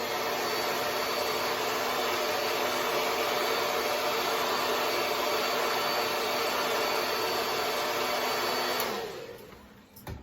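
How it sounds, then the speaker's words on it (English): Hair dryer on its cold setting blowing steadily over a skin-base hair system at the front hairline, a loud continuous whoosh with a faint whine that runs unbroken for most of the clip before cutting off near the end. "Once you get most of the glue out, blow dry that in cold air."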